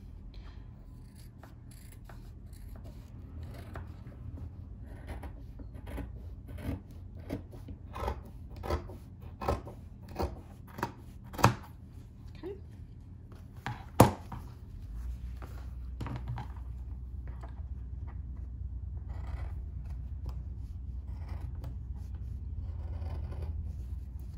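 Sharp scissors cut straight through three layers of fabric at once, giving a quiet run of crisp snips and one sharper closing cut at close range.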